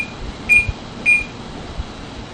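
Two short, bright electronic beeps from an oven timer being set for baking cornbread, spaced about half a second apart over quiet room hum.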